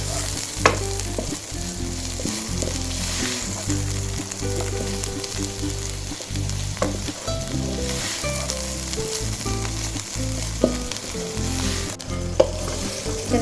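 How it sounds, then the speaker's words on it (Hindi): Chicken filling for cheesy bread rolls sizzles and fries steadily in a pan while being stirred, a continuous close, moderately loud crackle with occasional sharper scrapes and clicks, no voices. "बस इसको मैं 2 मिनट के लिए ऐसे ही मिलाती रहूँगी।"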